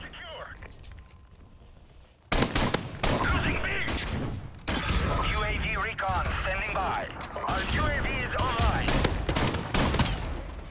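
Shotgun and gunfire blasts in Call of Duty Modern Warfare Remastered, a rapid series of loud close shots and crackling bursts starting suddenly after a quiet opening, with a voice talking over the action.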